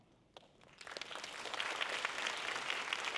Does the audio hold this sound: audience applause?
yes